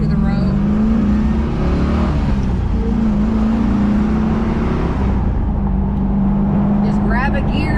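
A 2002 Chevrolet Camaro SS 35th Anniversary V8 pulls hard on a road test drive, its loud steady engine drone holding up close throughout, with a voice talking over it.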